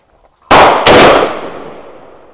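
Two sharp, loud rifle shots from an AKS-74U Krinkov carbine at an outdoor gun range ring out about a third of a second apart, each a hard crack followed by a long decaying echo.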